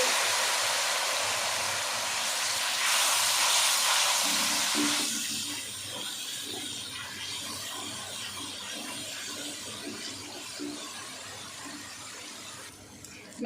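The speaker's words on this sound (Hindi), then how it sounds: "अब हम इसमें थोड़ा सा पानी ऐड कर देंगे।" Water poured into a frying masala of onion, garlic and ginger for Lahori chana: a loud hissing rush that peaks early, then settles into a steady, quieter sizzle.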